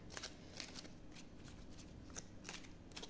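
Oracle cards being shuffled by hand before one is drawn: a steady, soft papery riffling and sliding with light repeated flicks, fairly quiet and continuous, with no voice over it.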